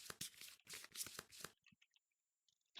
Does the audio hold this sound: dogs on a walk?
no